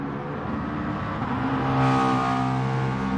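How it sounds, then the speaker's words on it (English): GT4 race cars on pit road at Brands Hatch, engines whirring and revving nearby with tonal drone rising and falling as a car accelerates past. "Pit road is a busy place with vehicles coming off."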